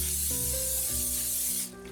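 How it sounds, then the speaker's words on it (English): Cooking spray hisses from an aerosol can into a casserole dish, a steady close broadband spray lasting nearly two seconds, with faint tonal background hum beneath and a brief drop at the end. "so now we're going to spray our casserole dish."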